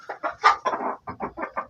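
Domestic hens on a Kazakh farm, birds used to people, cluck close by in a quick string of short, bright calls, about a dozen bursts with brief gaps.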